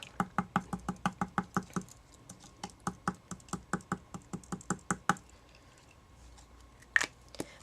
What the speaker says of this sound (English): I'm going to use my giant chisel tip glue pen here, and again I just tap tap tap tap tap tap tap all on the entire back.